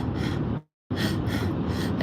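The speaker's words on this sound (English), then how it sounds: "It's like panting." A person demonstrating panting, with rapid, loud, close breaths running continuously, broken once by a short silent pause, then resuming.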